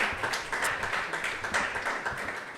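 A studio audience at a French business talk show applauds in a dense, steady patter of many hands, moderately loud and without speech.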